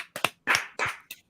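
A few scattered claps for guests on a podcast, sounding close and sparse, like a handful of people clapping in a small room, with short bursts separated by brief gaps.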